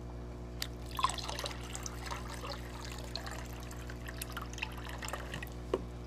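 Aquarium tank water poured from a guppy tank into a jar, a faint, quiet trickle with soft drips and small splashes over a low steady hum, no talking.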